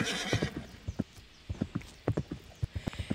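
A horse in the Roblox video game gallops with quick, sharp hoofbeats and neighs briefly at the start, the clopping uneven and fairly close, with no voices over it.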